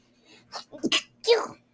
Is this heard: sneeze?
yes